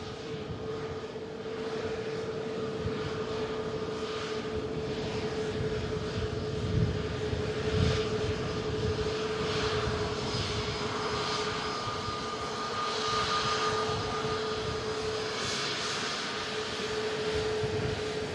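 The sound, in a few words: EasyJet Airbus A320neo jet arriving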